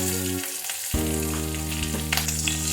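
Slit green chillies dropped into hot oil already holding cumin seeds and bay leaf, a brief hush then a sudden loud sizzle that bursts up and keeps crackling steadily close by.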